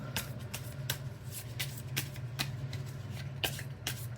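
A deck of cards being shuffled up close, quiet riffling bursts and soft flicks repeating in an uneven rhythm with no voices.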